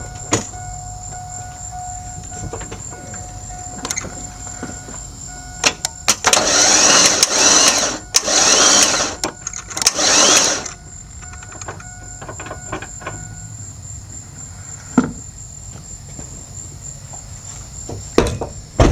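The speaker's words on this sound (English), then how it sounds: "we're just going to spin it over real quick" A starter spins an engine over in bursts, after the oil has been blown out of the cylinders, with a weak battery: three loud churning cranking runs, each a second or two long, against steady insect chirping.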